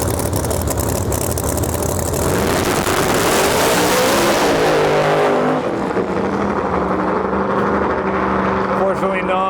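Pro 275 drag race cars on a qualifying pass at a drag strip, with loud engines roaring and revving up, then a pitch-shifting whine as they pull away, under a continuous heavy engine din.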